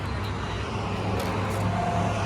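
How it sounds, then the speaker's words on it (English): Steady road noise from cars passing on a nearby road, a broad continuous rumble and hiss at moderate level with no break. "It sounds like we're by the interstate out here. All these cars keep coming by."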